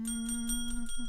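A bell rung as a celebratory signal during a live-streamed discussion show, heard as a few repeated bright rings with sustained tones over a steady low hum.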